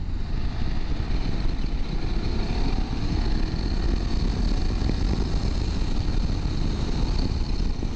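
A 2025 BMW F 800 GS motorcycle is ridden under power, its engine a loud, continuous drone blended with rushing wind, holding steady without a distinct rise in pitch.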